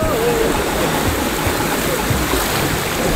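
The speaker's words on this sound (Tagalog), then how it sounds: "meron tayong river crossing. Mababaw lang ito." Steady rushing of a shallow, knee-deep river being waded across, flowing loudly and continuously, with splashing water close by throughout.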